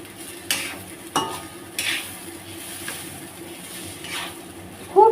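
Basanti pulao is stirred in a cooking pan, with a series of scraping strokes and a few sharp clinks of the utensil against the metal. Soft frying sizzles underneath, close and fairly quiet.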